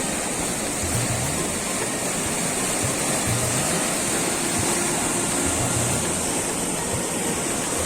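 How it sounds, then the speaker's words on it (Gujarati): A loud, steady rush of water gushes from a pipe and splashes down into a pond, continuous and close, with no voices. "આ પાણી આવે છે ભૂંગળામાં હમતું નથી એટલા માટે"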